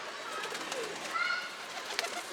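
Pigeons coo softly at a distance, a few low calls over faint outdoor background noise.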